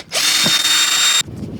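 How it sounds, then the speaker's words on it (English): A power drill whines steadily for about a second as it backs screws out of a worn motorhome floor, loud and close, then cuts off abruptly into quiet room noise. "Shall I just take these screws out and see what's going on here?"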